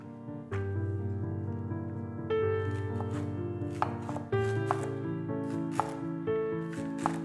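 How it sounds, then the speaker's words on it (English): A knife finely chops sticks of celery on a board in quick, regular knocks, with soft tonal music playing underneath throughout. "3 sticks of celery, finely chopped."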